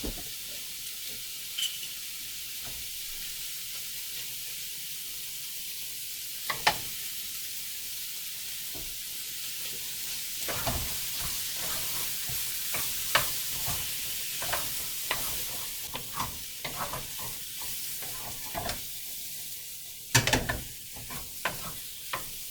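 Vegetables for kung pao chicken fry in oil, a constant bright hiss and sizzle with intermittent stirring clicks and scrapes, a heavier burst toward the end, no one speaking.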